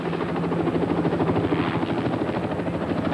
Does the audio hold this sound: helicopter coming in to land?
yes